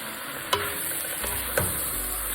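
Tomatoes being stirred into a pot of vegetable soup, with a few soft scraping clacks of the spoon over a low steady simmering hiss, close and quiet.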